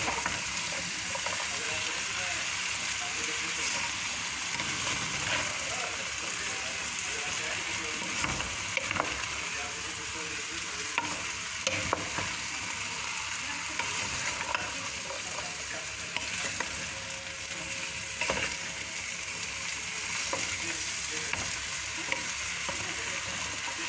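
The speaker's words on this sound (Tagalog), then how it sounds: "Parati mo siyang i-mix para hindi siya masunog sa baba." Pareq batata, an Arabic potato dish, sizzling in a pan over low heat while being stirred, a steady frying hiss with occasional soft scraping clicks from the utensil throughout.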